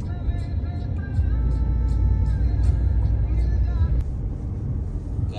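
Car steadily cruising on a highway at night en route to Jaisalmer, a continuous low road rumble and engine drone filling the cabin with faint tonal whine above it, steady and close throughout.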